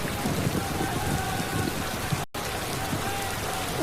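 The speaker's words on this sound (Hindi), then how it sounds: "बारिश आ गई।" Rain falls steadily outdoors as a continuous soft hiss of drops on surfaces, with muffled voices and a brief cut partway through.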